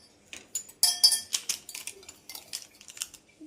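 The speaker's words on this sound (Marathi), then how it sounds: "आता मी छान छान मिक्स करते" A metal spoon stirs and clinks against a container of sugar mixture, giving a run of bright, irregular scraping taps and clinks, close and fairly quiet, with no voice.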